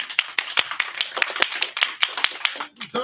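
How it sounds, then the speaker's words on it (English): Audience at a school grade 3 and 4 English reading competition clapping together in a fairly regular, brisk rhythm, sharp and close, before trailing off at the end. "Let's give one more round of applause."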